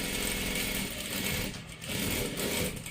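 A sewing machine runs in steady continuous bursts while stitching a salwar, a dense mechanical whir with a brief slowdown near the middle, close and alone with no talking.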